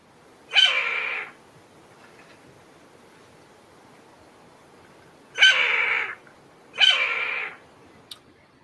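A Steller's Jay imitating a red-tailed hawk gives three loud, harsh descending screams, one alone and then two close together, each about half a second long, against quiet background hiss.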